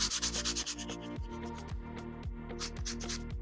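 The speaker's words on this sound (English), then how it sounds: "I'm gonna do some more sanding and some sipping." Small wooden pieces for a challenge coin box are hand sanded with a steady back-and-forth scrubbing rhythm, close up and fairly loud, with repeated strokes and no talking.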